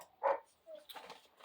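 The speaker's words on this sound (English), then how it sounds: "if you hear my dogs barking, it's because my husband just got home." Pet dogs barking indoors at home: one fairly loud bark, then softer, scattered yips and barks, all somewhat distant and quiet.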